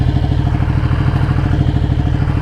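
A Ducati Panigale 1199S motorcycle engine idles in a fast-food drive-thru, a steady loud rumble with even rapid pulsing throughout, close by with no talk.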